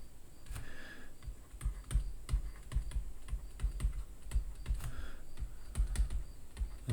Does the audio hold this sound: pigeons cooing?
no